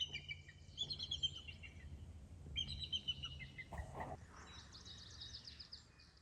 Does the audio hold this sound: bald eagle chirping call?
yes